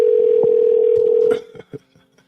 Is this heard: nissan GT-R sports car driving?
no